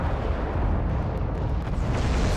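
Missile explosions in the mech combat game MechWarrior Living Legends: a loud, sustained roar of overlapping blasts and rumbling detonations, heavy and continuous with no pauses.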